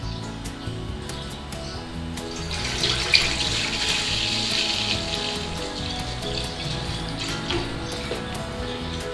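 Milk poured into a pan for homemade cheddar cheese, a steady liquid splashing and trickling that runs close and fairly loud for several seconds, with no talking.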